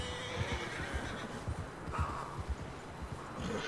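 In Red Dead Redemption 2, a horse whinnies while being hitched at a rail, giving a moderate neigh with soft hoof clops and ambient outdoor noise and no talking.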